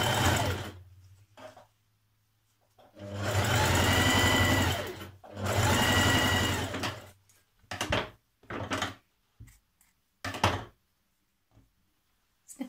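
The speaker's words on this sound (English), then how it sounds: "Then stitch it all the way around like this" A sewing machine stitches around a jacket pocket in two steady runs of several seconds each, followed by short stop-start bursts and a few clicks, close and fairly quiet with no talking.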